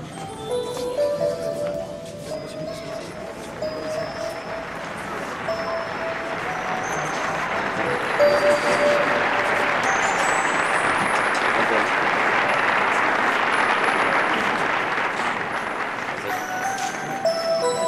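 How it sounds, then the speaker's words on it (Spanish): An audience at an award ceremony breaks into sustained applause that swells and holds steady, with a faint tone ringing over the crowd noise. "Fuerte los aplausos para Multiservice Regard"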